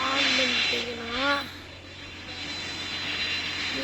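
Jet engines of an Airbus Beluga in a flight video game produce a steady broadband roar. A voice talks briefly over the start.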